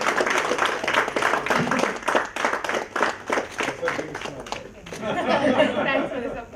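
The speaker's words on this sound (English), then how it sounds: "So let's do the second round of applause also." An audience at a Tamil Nadu startup conclave claps in a steady, rhythmic round of applause for several seconds, close and moderately loud, with chatter and voices mixed in toward the end.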